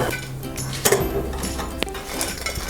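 Crispy fried okra being dished out of a pan, with scraping utensil clinks and light metallic knocks against the cookware, close and moderately loud, with no talk.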